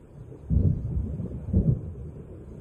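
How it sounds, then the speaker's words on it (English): Thunder from an approaching storm in the video game Alan Wake Remastered comes as two deep, muffled rolls about a second apart, low and distant-sounding. A quiet rumble lingers between them, with no talking. "It seems there's a storm coming."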